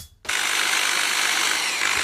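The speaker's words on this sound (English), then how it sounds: "Let's take the drill again." Power drill grinding away clay in a steady, loud whir that starts abruptly after a brief quiet moment and continues without pause.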